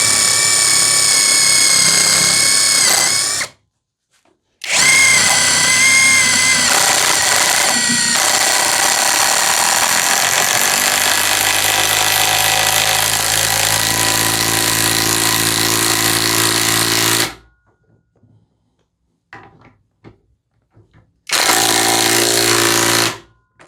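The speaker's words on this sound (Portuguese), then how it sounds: "Agora apenas com a chave de impacto, parafusos de 3/8 por 110 milímetros" A Hanabi LJ2022 impact wrench drives 3/8 x 110 mm screws in three loud, rattling hammering bursts: a short one, a long sustained run with a deepening tone, and a final brief burst, separated by near silence.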